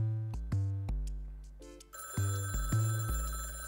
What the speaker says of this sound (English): That phone could be my meal ticket.